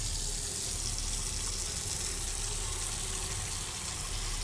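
Water runs steadily into a container for an autopsy lung-float test in Autopsy Simulator, a continuous close gush of tap flow filling the whole span with no talk.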